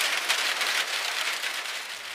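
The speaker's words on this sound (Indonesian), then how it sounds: "Hujan semakin besar dan akhirnya membuat kami terhenti." Heavy rain pours down on Seram island in the Moluccas, a dense, steady hiss of drops drumming on surfaces nearby with no other sound.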